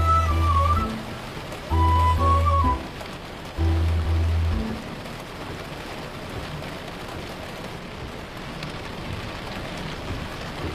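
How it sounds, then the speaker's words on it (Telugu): Steady rain falls at night, a soft even patter that continues under a few low musical tones at the start and then carries on alone at a moderate level. "ఏంటయ్యా, వర్షం పడేలా ఉంది"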